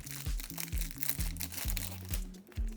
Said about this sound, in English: Let's go ahead and break into this fruit stick.